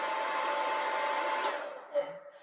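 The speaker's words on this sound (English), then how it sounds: "Now we want to have the hairdryer on the cold setting, and it's got 2 speeds." A hair dryer runs on its cold setting at the gentle first speed, a steady close whoosh that cuts off after about a second and a half, leaving faint residual noise.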